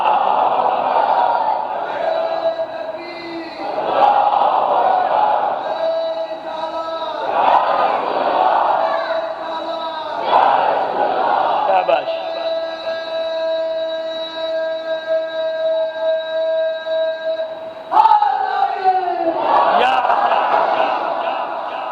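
A mosque or majlis crowd at a Muharram gathering chants a religious slogan in loud, repeated collective bursts, with a long sustained chant in the middle, close and filling the room.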